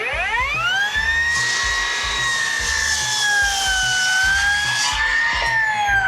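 A large cordless circular saw cuts through wood, its high whining tone holding steady for about six seconds, loud and close with no talking.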